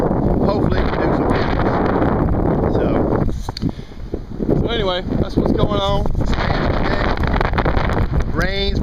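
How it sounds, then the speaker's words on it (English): Strong gusts of wind roar and buffet the microphone during a tropical storm, with a brief lull before the blasts return; someone talks intermittently over the rushing noise. "Rain's blowing. Gusts are coming up. Trees are going crazy."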